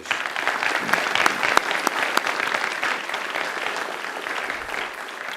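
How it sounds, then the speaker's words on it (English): Audience at a Macquarie University graduation ceremony applauding, a steady, dense wash of clapping that stays loud throughout, with no talk over it. "Let's give Angela another great round of applause."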